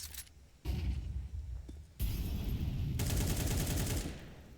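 Gunfire and flashbang blasts from a competitive Counter-Strike 2 match, with sharp bursts of shots, a loud dense rattle of rapid fire and sudden bangs in quick succession, no talk over it.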